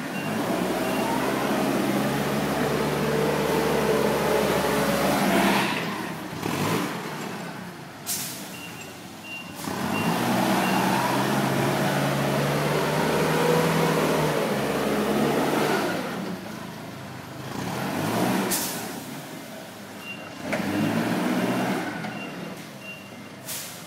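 A forklift drifting on a work lot, its engine and tyre noise surging loud and steady, cutting out briefly and resuming several times, with sharp short bursts between runs and no clear reversing beeps.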